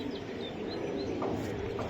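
Green Gola pigeon cooing softly a few times at a distance, with faint chirps from other birds and a steady low background hum.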